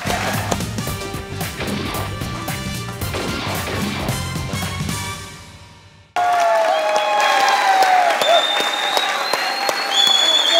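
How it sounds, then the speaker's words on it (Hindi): A studio audience on a comedy show claps loudly through a musical sting before a break, the applause continuing dense and bright after the music cuts off. "तालियां बजाइएगा"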